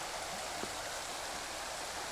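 A river at Edi Cutting campground in King Valley, Victoria, rushes steadily in a continuous broadband wash, flowing nearby, with no voices.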